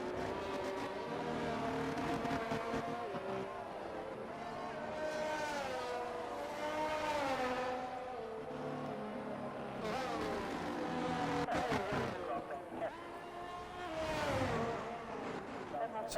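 Race cars from F1 23 at the Bahrain circuit whine through gear changes and rise and fall in pitch over several passes, a steady game engine drone throughout.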